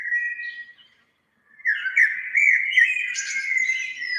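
Birdsong outdoors: a few high whistled chirps, a short pause, then a busier run of clear, bright warbling phrases, fairly close and with no voices.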